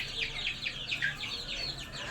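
A brooding hen shut in a coop with her eggs clucks in a rapid series of short, rising calls, close and fairly loud over a faint farmyard background.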